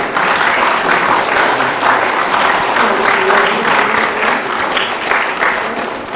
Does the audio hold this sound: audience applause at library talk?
yes